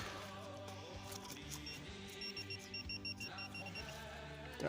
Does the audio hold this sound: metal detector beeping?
yes